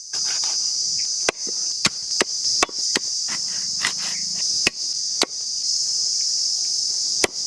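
Sharp chops of a knife or cleaver cutting tuna into curry pieces in an outdoor village kitchen, about a dozen irregular loud strikes over a steady shrill chorus of crickets.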